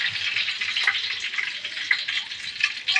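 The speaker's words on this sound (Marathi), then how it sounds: "आता कढीपत्ता घालायचं, जिरं घाला." Curry leaves and cumin seeds sizzle in hot oil on a low gas flame for a Marathi soybean dish, a steady bright crackling hiss with small pops throughout, close and fairly loud, with no talking.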